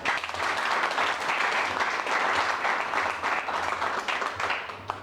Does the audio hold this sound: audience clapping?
yes